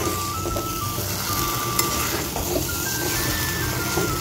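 Fried rohu fish heads stirred in a hot pan, a continuous crackling sizzle with occasional light clinks of the spoon, heard close with no one talking.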